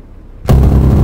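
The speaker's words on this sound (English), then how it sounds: "They're firing RPG at us" An RPG rocket explosion in Arma 3, a single sudden, loud, close blast bursting out of near silence and rumbling on with heavy low-end roar.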